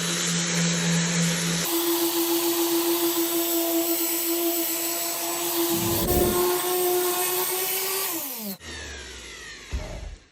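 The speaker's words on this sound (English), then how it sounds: "But I am gonna sand it with a 40 grit now." A sander with a 40 grit disc works an epoxy resin live edge slab, making a loud continuous motor whine that shifts pitch partway through, then winds down and changes tone toward the end.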